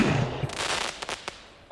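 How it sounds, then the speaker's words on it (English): Fireworks going off in the Neos VR game: a burst of crackling pops followed by a few sharp separate bangs, fairly loud and close, with no talk over them. "I hate fireworks."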